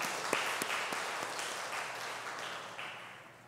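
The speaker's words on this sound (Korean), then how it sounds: "박수 좀 쳐주시기 바랍니다" Scattered applause from a church congregation during a sermon, a few sharp claps rising over a soft, fading patter that thins out toward the end.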